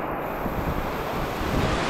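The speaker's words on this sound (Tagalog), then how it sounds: "Grabe lakas ng ulan pero may kasamang hangin" Strong wind and heavy rain roar steadily on a road in Leyte, a dense broadband rush with gusting low rumble buffeting the microphone throughout, close and loud with no voices.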